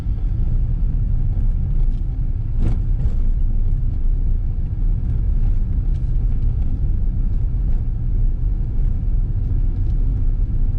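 Car driving on a road in Dun Laoghaire during a driving test, a steady low engine and tyre rumble running throughout at an even level, with only faint brief sounds above it and no speech.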